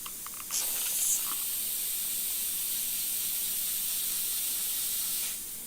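An airbrush clogged with dried paint at the tip sprays in one continuous, steady, close hiss lasting several seconds, with a brief spitting start and no voices.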